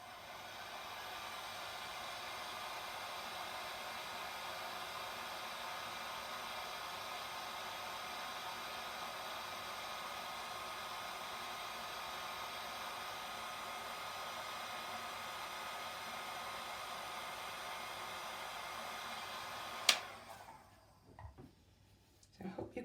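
A hair dryer blows steadily and up close over wet alcohol ink for about twenty seconds, a broad even hiss, then clicks off and leaves a few small handling noises.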